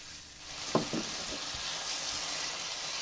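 Chopped mushrooms sweat in a pan for chicken chasseur, giving a steady soft sizzle with a few utensil scrapes and stirs early on, close and unbroken by talk.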